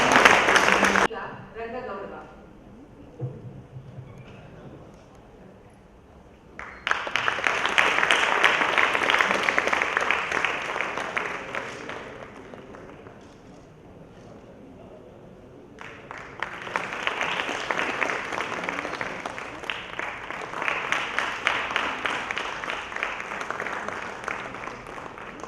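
Audience applause at a Kempegowda award ceremony held during a Kannada drama event, two long waves of loud clapping from a hall crowd separated by a quieter lull, with a brief voice at the start.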